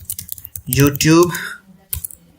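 Computer keyboard keys click in short, light bursts as text is entered for a PHP database demo, the typing brief and partly under someone speaking close by.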